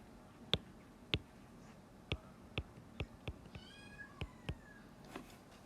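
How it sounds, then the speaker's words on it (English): A kitten in another room cries out in a series of loud, sharp meows, roughly one every half second, some drawn out and wavering, heard at a distance over a quiet background. "Can you hear that kitten?"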